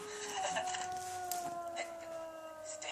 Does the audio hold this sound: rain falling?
no